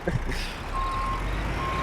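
Tractor reversing alarm from the Farming Simulator 22 video game, a steady electronic beep tone repeating over a low engine rumble, fairly loud and with no voices.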